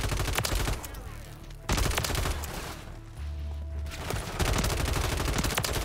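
RAM 7 assault rifle firing in Modern Warfare 3, rapid automatic bursts of crisp, close gunshots in several runs separated by short pauses, loud and sustained.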